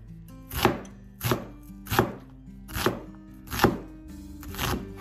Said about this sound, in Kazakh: Алдыменен пиязын турайын